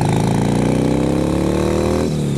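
A motorcycle engine revs up as the throttle opens, its loud, close drone climbing steadily in pitch before it briefly drops back.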